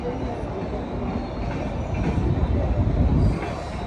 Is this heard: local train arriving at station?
yes